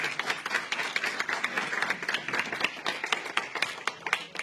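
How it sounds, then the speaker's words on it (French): An audience at a reading event applauds loudly, with dense, sharp individual claps forming an uneven steady rhythm close by for several seconds. "applaudissez-les très très très fortement"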